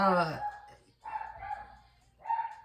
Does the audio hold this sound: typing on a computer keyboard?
no